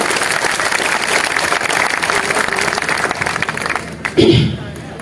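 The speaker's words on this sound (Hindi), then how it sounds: "ऐसे नहीं, जोरदार ताली बजाकर।" Loud clapping from a crowd at a patriotic poetry gathering during a tricolour rally in Sangod, a thick, sustained burst that fades out before a voice rings out briefly at the end.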